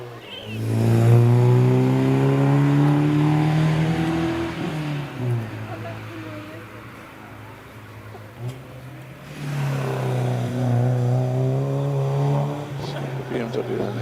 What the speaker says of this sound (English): Stapleton in the BMW 318i heads around Ettores.